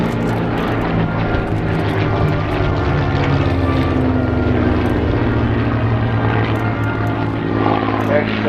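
A WWII Hawker Hurricane and Spitfire fly past at a seaside airshow. Their propeller engines give a loud, continuous roaring drone with a slowly shifting pitch, and a commentator talks over it throughout.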